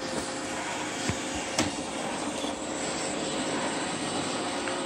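An iRobot Roomba 675 robot vacuum starts cleaning with a steady whirring motor and brush hum, a constant close drone with a couple of small clicks.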